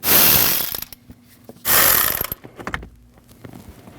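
Power tool or ratchet backing out 8mm mounting screws on a Honda CR-V blower motor, in two loud bursts of whirring followed by quieter clicks and handling noises, close to the microphone.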